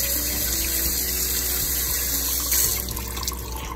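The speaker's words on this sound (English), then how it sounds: "Wash them up really nice," Nopales cactus pads rinsed under a running kitchen tap, a steady loud rush of water splashing into a sink, continuous throughout with a brief surge near the end.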